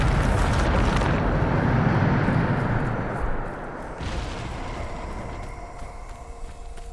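A Bombarda explosion spell in the Hogwarts Legacy wizarding game gives a loud, rumbling blast that rolls on for a few seconds and then settles into a quieter lingering roar.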